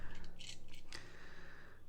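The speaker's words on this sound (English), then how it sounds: "So what we do is we rip him in half" Transformers Earthrise Fasttrack plastic toy pulled apart into two halves, giving a short run of close scraping and clicking plastic snaps over faint background hum.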